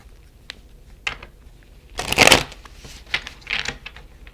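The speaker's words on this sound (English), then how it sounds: "one more shuffle" Tarot cards being shuffled by hand, a few quick riffling bursts and soft taps with one louder flurry in the middle, close up, with no talking.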